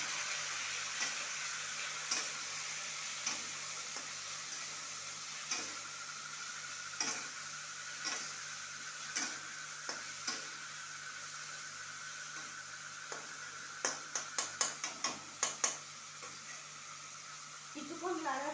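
A spoon stirs turmeric and cumin powder into pui shak curry frying in a pan, a faint steady sizzle broken by soft scraping strokes that quicken into rapid clinks near the end.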